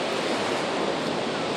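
Gentle sea waves wash steadily at Wediombo beach, a rocky natural shore, as a continuous soft broadband hiss of calm surf with no voices.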